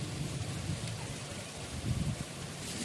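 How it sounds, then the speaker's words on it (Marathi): Unseasonal rain pours down in a windy rainstorm, a soft, steady broadband hiss of falling drops heard from a distance at low volume for a few seconds. "ह्या पद्धतीने असा पाऊस पडत आहे आज"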